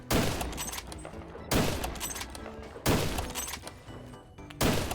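A suppressed AWM sniper rifle fires in Phantom Forces, four muffled cracks spaced about a second and a half apart, each trailing off into a short rumbling tail.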